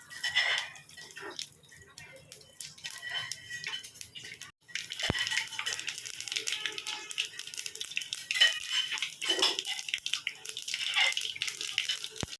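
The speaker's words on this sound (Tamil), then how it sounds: "கடுகு நல்லா பொரிஞ்சு வந்தோடனே" Mustard seeds and fenugreek seeds splutter in hot oil, a dense continuous crackling and popping that briefly thins out and then returns stronger, at a fairly soft level.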